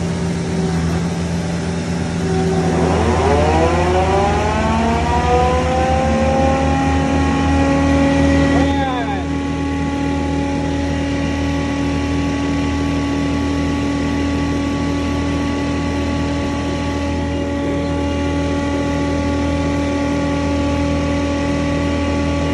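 A FAE BL1 forestry mulcher runs at a steady 2400 RPM, its engine sweeping up in pitch before settling into a loud, continuous drone with a constant whine over a deep rumble.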